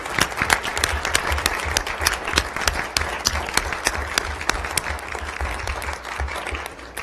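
An audience at a school board meeting applauds students, with continuous, lively clapping from many people in a room that holds steady for about seven seconds.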